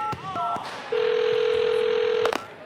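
Telephone dialing in an animated show: a few short keypad beeps, then a long steady ringback tone sounding once before more brief tones, clear and close with no talking.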